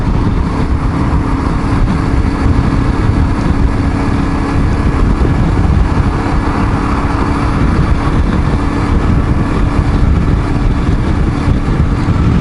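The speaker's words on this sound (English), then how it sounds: "The wind. It is hitting the top of my helmet." Wind buffets the top of a motorcycle helmet while riding a Yamaha T700 World Raid, a loud, constant low roar and rush with steady engine drone underneath and no voices.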